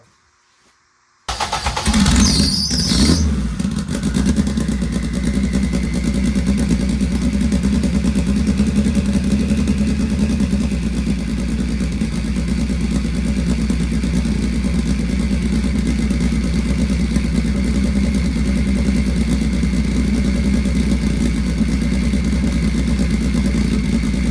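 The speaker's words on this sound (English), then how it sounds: "I'm just going to go ahead, fire it up, run it for a few minutes" A turbocharged Acura RSX Type S engine cranks and catches after a second of silence, then settles into a loud, steady idle that runs on unchanged with a constant low rumble and faint whine, with no talking.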